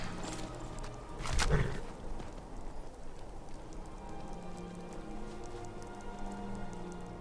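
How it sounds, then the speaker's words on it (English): Rain falls in Skyrim, a soft continuous patter with a brief louder rushing swell early on, steady and moderately faint throughout. "Come on, Sorine, now it's raining."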